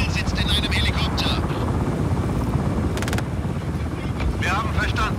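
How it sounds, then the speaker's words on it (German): Helicopter in the video game Just Cause 4, a steady loud rotor and engine roar filling the whole clip, with game sounds and other noises layered over it. "Ziel sitzt in einem Helikopter."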